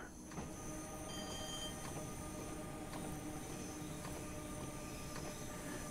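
A train rolling along in a train simulator game on the Cathcart line, a steady low rumble of wheels on track with periodic rhythmic clicks and faint high wheel squeal, with no voices.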